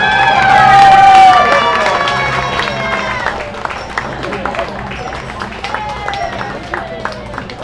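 A theater audience at a fencing gala cheers and claps loudly for the performers. A broad roar swells early and then eases into steady applause, with shouts and whoops rising above it.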